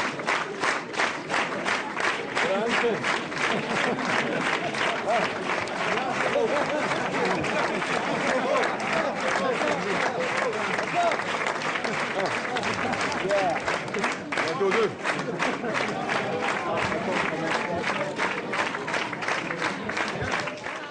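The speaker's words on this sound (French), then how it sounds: "C'est parti pour 25 secondes d'applaudissements." Sustained applause from a large crowd at a French Socialist Party primary event, steady and dense with rhythmic clapping for about twenty seconds, with murmured voices mixed in.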